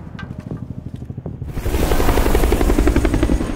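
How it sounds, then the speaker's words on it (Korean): A special forces rescue helicopter flies in, its rotor thumping faintly at first and then swelling into a loud, close, continuous roar with rhythmic blade chop. "특임대 헬기를 본 친구들은 필사적으로 구조를 요청하죠"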